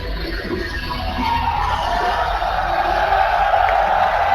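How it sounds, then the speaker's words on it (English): At the Shanghai Major 2016 Dota 2 grand final, a large arena crowd roars in a broad, sustained wash of cheering that swells slightly toward the end. "with that crowd roar, that brings the end for us here at the casting desk"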